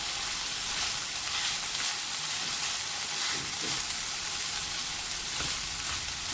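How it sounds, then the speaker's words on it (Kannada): Carrot, beans and potato palya fries in a pan, a continuous soft sizzle with faint stirring, steady and unbroken for several seconds. "ಇದು ಒಂದು 5 ನಿಮಿಷ ಹುರಿದು ಬೇಯಿಸಿದರೆ ಸಾಕು,"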